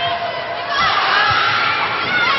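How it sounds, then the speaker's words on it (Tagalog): A volleyball crowd at an FEU versus UST match roars and cheers after a point, a loud, dense wall of shouting voices that swells and holds steady throughout. "The crowd reacting."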